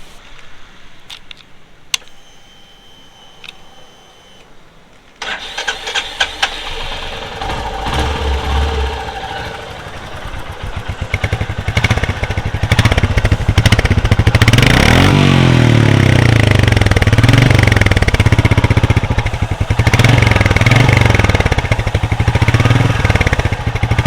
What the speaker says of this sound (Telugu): ఒకసారి ఎగ్జాస్ట్ నోట్ అయితే ఇవ్వనండి